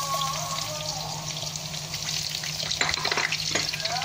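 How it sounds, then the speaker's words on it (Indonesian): Garlic and ginger sizzle in hot oil in a pan, a steady bright frying hiss with crackles and a few louder spatters and stirring bursts near the end. "kita tumis bawang putih dengan halia."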